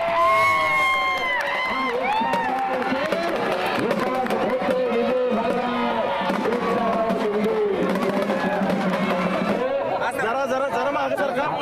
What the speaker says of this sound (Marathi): हे कुस्तीचं मैदान घेतलं तानाजीराजे धोत्रे, टाळ्या वाजून कौतुक करा